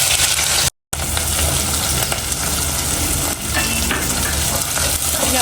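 Onions fry in two spoonfuls of oil in a pan, a loud, close, continuous sizzle broken by a brief dropout and light utensil scrapes as they are stirred.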